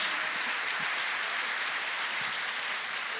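A church audience claps in a steady, dense wash of applause that stays even for a few seconds, with no clear voices over it.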